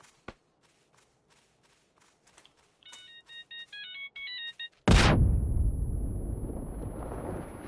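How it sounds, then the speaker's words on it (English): A Nokia ringtone chirps as a quick melody of short electronic notes inside PUBG on the Karakin map, followed by a sudden loud blast that fades into rushing noise. "That's a Nokia ringtone."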